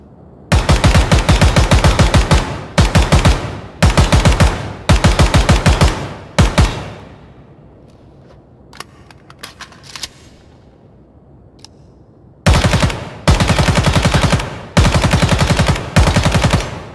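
Automatic fire from an AK-74U alpha variant in the video game Ground Branch comes as loud, close bursts, several long strings of rapid shots split by a quiet gap of handling clicks before more bursts resume.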